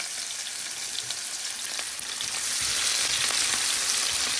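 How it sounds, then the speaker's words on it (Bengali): Potatoes, onion and garlic go into hot oil for a chickpea fry, giving a steady, close sizzle that swells louder partway through, with no talking. "এখানে আছে আলু, পেঁয়াজ আর রসুন, দিয়ে দিচ্ছি।"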